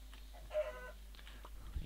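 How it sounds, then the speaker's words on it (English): A Minecraft chicken gives a short burst of clucking over a steady low background hum, faint and brief, with no talking. "This is a chicken."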